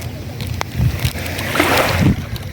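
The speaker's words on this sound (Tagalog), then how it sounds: "Kaya pala ang wave ng alon hindi pantay-pantay, parang tao din." Ocean waves wash onto a beach shore in uneven surges, swelling loudly toward the middle and then easing. Gusty wind buffets the microphone throughout, and no one speaks.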